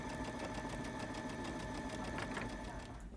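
A sewing machine runs a quilt strip under the presser foot with a quarter-inch seam, a close, steady rapid whirring clatter lasting about three seconds before it slows and stops.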